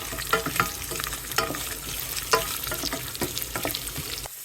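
Carrots tipped into a pan of frying onions and stirred, a steady close sizzle broken by repeated scrapes and clacks of the spoon against the pan, with no voices.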